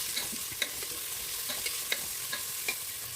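Onions frying in hot oil in a pan, giving a steady soft sizzle with several brief, sharp stirring clinks and scrapes spaced through it, close and fairly quiet with no talking.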